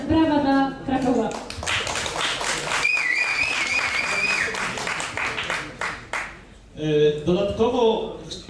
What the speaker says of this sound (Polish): Brawa dla Krakowa.